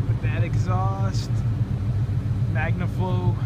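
A 2003 Ford Mustang SVT Cobra with a Magnaflow exhaust idles with a deep, steady low rumble throughout, while a person talks over it close by.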